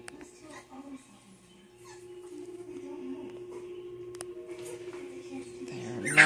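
Six-week-old puppies whimper and yip softly while eating puppy mush, with faint, overlapping high cries over a low steady hum and a person talking nearby.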